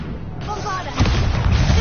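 A blasting spell from Hogwarts Legacy erupts as a sudden loud boom partway through, following a voice speaking.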